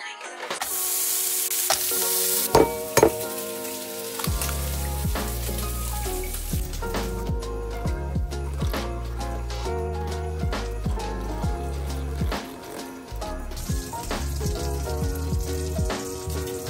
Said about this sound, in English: Bacon crispy, but not greasy.